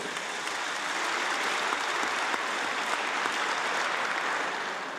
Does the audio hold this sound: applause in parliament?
yes